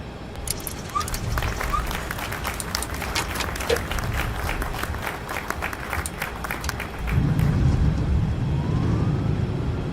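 A simulated Boeing 737 landing rolls out on the runway with a steady rushing roar, followed by a louder, deeper surge of reverse thrust near the end; no voices.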